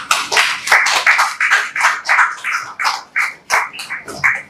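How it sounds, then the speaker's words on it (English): A small audience applauds after a speech at a national research symposium award ceremony, a patchy, uneven clapping of a few hands that holds steady close by, with no voices over it. "Please let's give Prof a round of applause."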